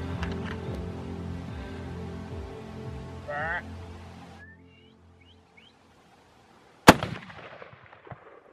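A single sharp, loud rifle shot rings out at a mule deer buck in the high desert, following a stretch of low talk and near quiet, with a brief echo afterward.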